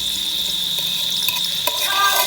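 Loud, continuous sizzling of vegetables frying in a pot, a steady hiss with an occasional pop and faint clink of a utensil.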